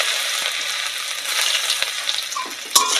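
Chopped ginger and fried garlic sizzle in hot oil in a pan in a village kitchen, a steady close crackle with a few sharp clinks from stirring.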